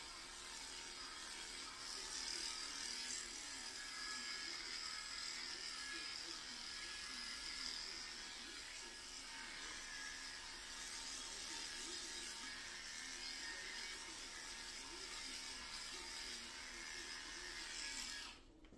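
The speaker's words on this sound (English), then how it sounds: "And normally I would shave the whole part of this, and here we can shave it" Electric T-clippers shaving an animal's coat near the tail during grooming, a steady close buzzing hum running throughout at an even level.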